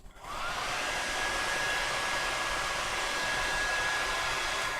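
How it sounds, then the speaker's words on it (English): A hair blow dryer switches on and blows steadily, a loud, even rushing whoosh with a faint high whine held without a break, no voices. "Let's get the blow dryer."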